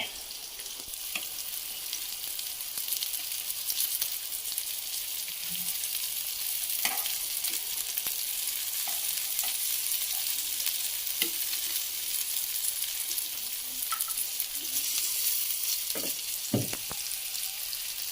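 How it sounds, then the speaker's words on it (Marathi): Continuous close sizzling of fish frying on a hot griddle, with scattered small pops and crackles throughout and no talking. "पीस ठेवलेत मस्तपैकी तव्यावरती आता फ्राय होऊ देत"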